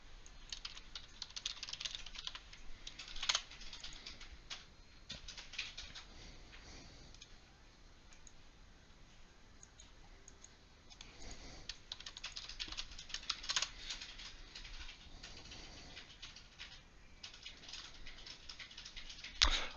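Rapid keystrokes on a computer keyboard as a question is typed into a chatbot, an irregular run of light clicks with brief pauses, close and fairly quiet, with no talking.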